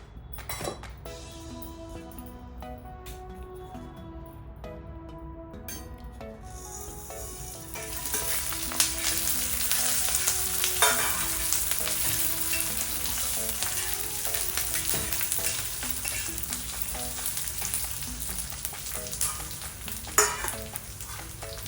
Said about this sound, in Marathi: थोडं तेल टाकून आपला खडा मसाला भाजून घेऊ